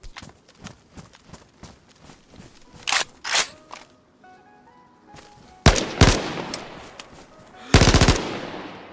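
Rifle fire in the DayZ video game, an M4 with a suppressor, first rapid light rattling bursts, then heavier loud volleys of automatic fire with sharp cracks, close and punchy, with no talking.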